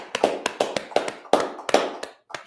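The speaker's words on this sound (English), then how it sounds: "Let's clap it up" An audience clapping at a live ISUPK gathering, with sharp irregular handclaps in uneven bursts and short pauses, close and fairly loud, no talking.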